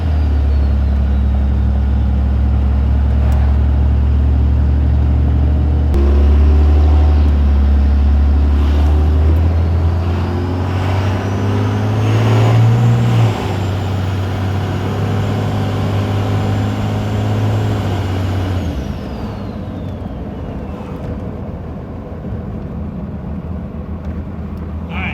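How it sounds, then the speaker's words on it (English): A truck with a rebuilt 47RE automatic transmission driving along, a loud, steady low engine drone that climbs in pitch as it speeds up, then drops and eases off near the end. "We're just going to drive around a couple minutes, get a little warmer"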